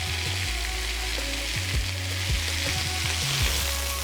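Smash burger patties fry on a hot griddle, crackling in a loud, continuous close sizzle with faint music underneath.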